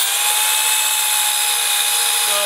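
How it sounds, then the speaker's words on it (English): A portable drill press bores slowly with light pressure, its motor giving a steady, loud, high-pitched whine that holds an even tone throughout, with a slight change near the end. "you give a couple pounds of pressure, drill slow,"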